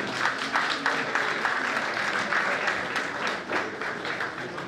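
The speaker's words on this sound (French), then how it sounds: "Il faut les accompagner par des applaudissements," A crowd applauding at the CCM Côte d'Ivoire 2024 awards ceremony, a loud, sustained burst of many hands clapping continuously throughout.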